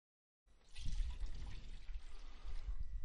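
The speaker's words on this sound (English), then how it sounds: "Here I've filled my pyramid up with water." Water pours from a pyramid-shaped model into a prism, a steady close trickle and splash starting after a short silence and running on evenly to the end.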